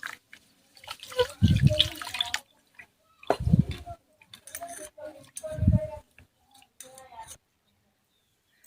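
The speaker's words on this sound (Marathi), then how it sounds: "भागर आता मी पहिले धुवून घेते" Barnyard millet rinsed by hand in water in a kitchen bowl, giving intermittent bursts of sloshing and swishing with small drips between them, fairly close, and separated by short silences.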